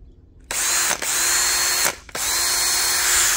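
A cordless drill whirs loudly and steadily after a short quiet start, with two brief dips where the trigger eases off before spinning back up.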